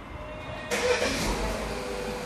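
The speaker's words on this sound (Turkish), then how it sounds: "Çalıştırın aracı." A Peugeot 3008 engine starts with a sudden burst of cranking, then settles into a steady close idle after a brief quiet hum.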